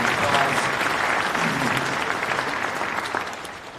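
An audience at a wildfire insurance town hall at Chico State in Chico, California, gives a full, sustained round of applause that slowly tapers off.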